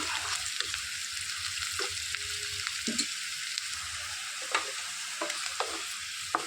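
Oil and seasoning fry in a pan for brinjal fry, a continuous close sizzle punctuated by scattered sharp stirring clicks and scrapes of a spoon against the pan, with no speech.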